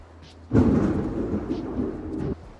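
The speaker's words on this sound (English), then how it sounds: "you can hear the thunder" A low rumble of thunder rolls in, swells and holds for about two seconds, then cuts off, with a quiet background before and after.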